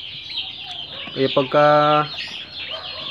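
Turkey and chicken chicks peep in a short run of high, tonal cheeps, one drawn-out call standing out clearly, close and fairly loud over a faint room background, with a voice speaking briefly.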